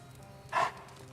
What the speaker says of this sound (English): Charlie the Hellhound.